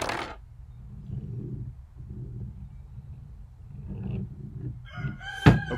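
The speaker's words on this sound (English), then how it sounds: "Apparently the rooster wants some." A rooster crows once, fairly close and loud, near the end, after a stretch of low indistinct background rumble and faint noises indoors.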